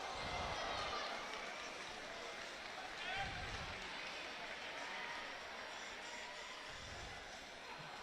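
Crowd buzz in the arena at the 2015 Pan American Games for a Canadian competitor from the host nation, a steady broad murmur of many voices with faint low thumps, continuous and moderately loud, with a commentator talking over it.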